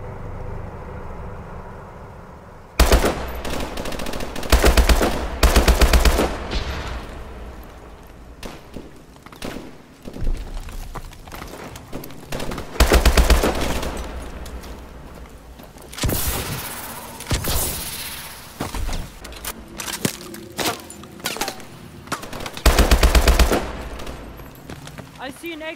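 Call of Duty gunfire erupts in bursts of rapid automatic fire and single loud shots during a squad fight, in repeated volleys with quieter gaps, under occasional voices.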